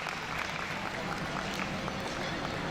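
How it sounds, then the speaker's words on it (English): Crowd applause for event volunteers at the Eelam Pavilion 2013 gathering: dense, steady clapping from many hands fills the whole stretch at an even level, with a faint murmur of voices underneath. "So please, give them a big round of applause."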